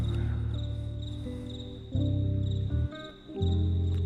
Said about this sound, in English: there's a cricket keeping beat on this track